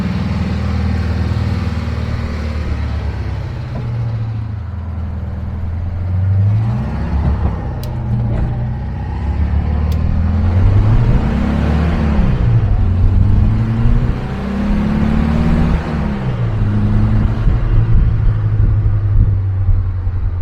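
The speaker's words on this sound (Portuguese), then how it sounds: "Só na subida aqui, pelo que eu estou acelerando e sabendo que é o motor original" A 1972 Kadron buggy with its original engine accelerates uphill, its loud, close engine note climbing and falling through several gear changes in a steady droning rumble.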